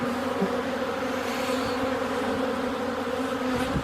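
A dense, steady drone of many honeybees buzzing together at close range at a hive after wintering, unbroken and even in loudness from start to finish.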